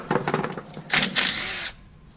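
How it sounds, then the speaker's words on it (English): A DeWalt impact wrench with a 1/2-inch socket removes bolts from a rear end, giving short close buzzing bursts followed by a longer loud whirring run. "Got my DeWalt impact with a 1/2-inch socket. Doing the job just fine."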